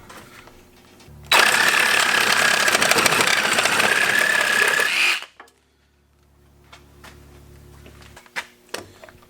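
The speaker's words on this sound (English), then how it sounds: "we're just going to go through a piece of wood here, just kind of compare the two cuts" A Kobalt XTR reciprocating saw with a 6 TPI blade cutting through a piece of wood, a loud close buzzing rasp for about four seconds that stops abruptly, followed by quiet handling noises.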